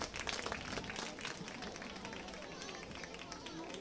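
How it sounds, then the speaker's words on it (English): A crowd at a Kennett Indian high school football game against Ste. Genevieve applauds steadily as an injured, cramping player walks stiff-legged off the field, the broad clapping wash continuous and fairly loud throughout. "a good round of applause to the Kennett Indian"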